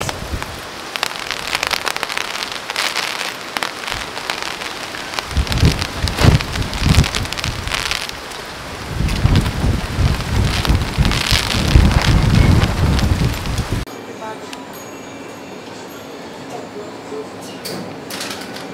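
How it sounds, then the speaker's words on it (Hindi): Heavy rain from Typhoon Lingling in South Korea pounds down loud and close, roaring in dense surges with gusty wind buffeting, then cuts abruptly to a much quieter near-silent stretch at the end. "ये बहुत बहुत खतरनाक बारिश और तूफान हो गया था"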